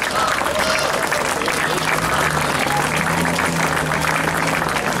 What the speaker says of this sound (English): Let's give a round of applause again to our parade volunteers carrying these photos.